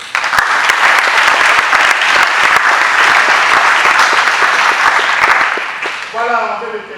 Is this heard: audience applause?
yes